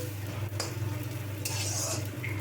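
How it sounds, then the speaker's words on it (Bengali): Roughly chopped onion frying in a pan for Bengali masoor lentil dal, with a steady close sizzle and a few stirring scrapes and clinks of a utensil against the pan. "একটা পেঁয়াজ রাফলি কুচিয়ে রেখেছিলাম, আমি দিয়ে দিলাম, একসঙ্গে সবটা ভাজা করে নেব।"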